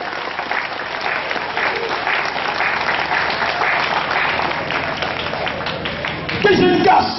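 Applause from a church congregation during an evangelical sermon, a steady wash of clapping filling the room for several seconds and swelling louder near the end, with voices mixed in.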